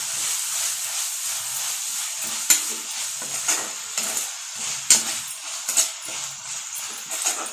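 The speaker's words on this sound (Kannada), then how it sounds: "ಈಗ ಚೆನ್ನಾಗಿ ಮತ್ತೆ ಫ್ರೈ ಮಾಡ್ಕೊತೀವಿ" Salted rice being fried and stirred in a pan for chitranna, a steady bright sizzle with repeated scraping strokes of a spoon against the pan, close and alone with no talk.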